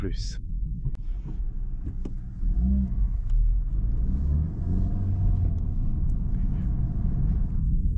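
Honda Civic Type R engine rumbling and accelerating in R+ mode on a road drive, a steady loud in-cabin drone rising in pitch, with people talking over it.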